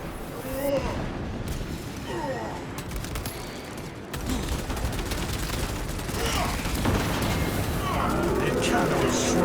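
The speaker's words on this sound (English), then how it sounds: "Aim and fire with a sidearm to commence attack" Dense, continuous gunfire and heavy blasts roar throughout a Warhammer 40000: Space Marine 2 battle, loud and rapid with booming impacts mixed in, while voices speak underneath.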